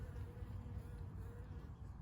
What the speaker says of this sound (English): there's one bee that wants to check me out